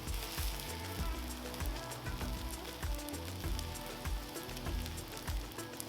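A stick of butter sizzles and crackles steadily on a hot Blackstone 36-inch griddle, a constant close frying hiss with scattered pops and no talking.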